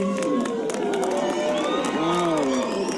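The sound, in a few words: crowd cheering before solar eclipse totality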